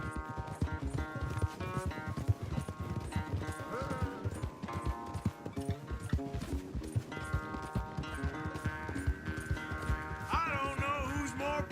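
In Red Dead Redemption 2, horses race at a gallop, their hooves pounding a steady, rapid clip-clop beneath a prominent orchestral score.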